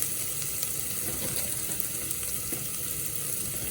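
Gorgonzola cheese goes into pasta in a hot pan, giving a soft, continuous frying sizzle with faint crackles. It is fairly quiet and steady, and no one talks over it.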